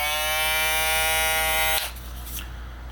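A GAMMA+ Boosted electric shaver running close by with a steady, loud buzzing whine that cuts off abruptly partway through, leaving quieter handling sounds.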